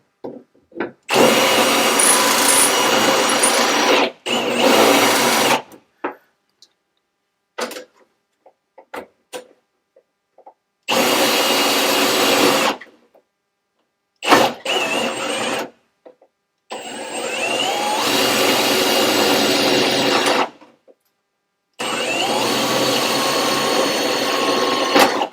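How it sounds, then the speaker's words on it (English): A power drill bores out a rivet on the rear door of an OBS truck in loud, whining bursts of a few seconds each, with short pauses and faint handling clatter between them. "So drill this rivet."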